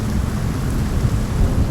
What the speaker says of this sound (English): There's tons of lightning just crashing down all around us.